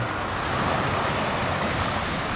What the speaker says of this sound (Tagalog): sobrang ganda ng tunog ng dagat.